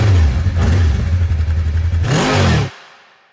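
A Royal Enfield Scram 411 scrambler motorcycle revs hard close by, its engine note climbing through a sweep of acceleration before cutting off abruptly and leaving a fading tail, with no voices.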